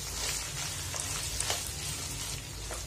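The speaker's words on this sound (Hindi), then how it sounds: "कीमा अच्छे से भून चुका है" Minced meat (keema) fries in a pan with a steady, close sizzle and scattered crackles and pops, holding at an even level throughout with no voices.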